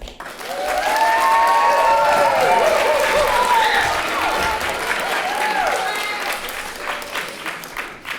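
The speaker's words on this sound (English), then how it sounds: "please join me with a nice, welcoming, appreciative, affirming round of applause for our 7th graders" An audience claps for a seventh-grade class play of Alice in Wonderland, with dense sustained applause and scattered whoops and whistles that swell early and then gradually thin out.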